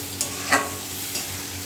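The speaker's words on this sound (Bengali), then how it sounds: "মশলাটা কষিয়ে নিয়ে তারপরে মটরটা দেবো" Spice masala stir-fried in a pan before peas go in, a low constant sizzle broken by three brief scraping stir strokes, close and fairly quiet.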